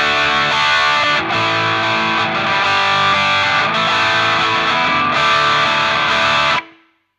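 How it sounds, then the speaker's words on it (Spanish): Electric guitar played straight through a Fractal Audio Axe FX amp model with no reverb, dense distorted chords sustained loud and steady for about six seconds before cutting off abruptly into silence. "ahora escucha el sonido directamente del amplificador"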